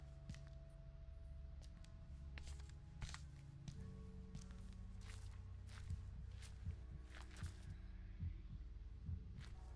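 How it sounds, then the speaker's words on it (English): A low, steady heartbeat thuds through the horror game Song of Horror, joined by soft footsteps and a quiet background hum throughout, with no talking. "If you hear the heartbeat going in the game, it generally means that they're getting a bit worked up"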